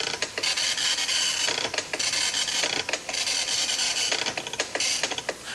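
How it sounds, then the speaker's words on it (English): A Commodore 64 printer prints out a program listing, with a loud, continuous mechanical rasp broken into repeated line-by-line bursts as the print head sweeps back and forth. "instead of listing to the screen, the computer will list to the printer"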